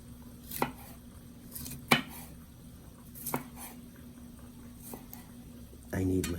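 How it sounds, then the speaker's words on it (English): A knife slices green wiri pepper on a board at an outdoor backyard cooking setup in Guyana, giving a few sparse, sharp cutting taps at uneven intervals over a quiet background, then a brief clattery knock at the end. "I'm going to slice up some of my wiri pepper"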